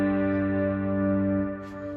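Clean ambient electric guitar played through a Line 6 Helix digital modeler with tempo-synced delays at 76 BPM, a sustained ringing chord with smooth echoing tails that slowly fade near the end.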